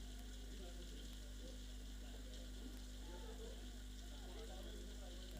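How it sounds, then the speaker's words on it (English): Heavy rain falls steadily through an outdoor local cricket league match, a constant broadband hiss with a low hum beneath and faint commentary-like voices murmuring under it. "So much of rain."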